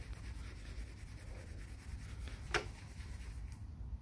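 Quiet, steady rubbing of a motorcycle exhaust pipe during cleaning and renovation, a soft continuous scrubbing texture with a faint low hum beneath and one brief sharp scrape midway, heard close with no talking.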